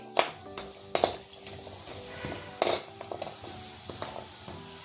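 A few sharp metal clinks and scrapes sound as homemade masala spices, including turmeric root, are stirred while frying in oil in a pan, with a low background hum between the strokes.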